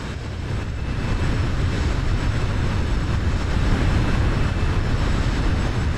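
A Fenix A320 airliner takes off in Microsoft Flight Simulator, a loud, steady, broadband engine roar with deep rumbling bass, continuous throughout with no talking.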